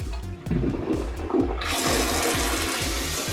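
A remote-controlled household toilet flushes: a gurgling burst of rushing water swells into a loud, steady whoosh, close and continuous, with no one speaking.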